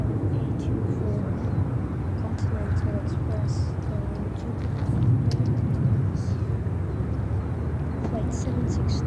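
A fixed-wing airliner landing at Chicago O'Hare Airport rumbles at a distance as a steady low roar that swells slightly midway, with outdoor background noise and no clear nearby voices.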